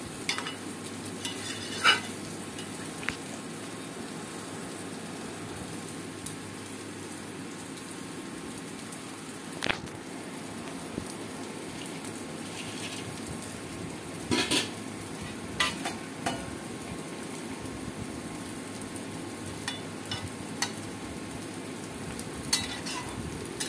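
Chana dal and potato cooking in water in a covered pot, with a soft continuous bubbling and sizzling hiss punctuated by a few faint clicks and lid knocks.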